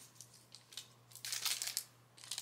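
Scissors cut into a small plastic Disney Doorables blind bag, with faint crinkling and rustling in short bursts that build to a denser crackle near the end.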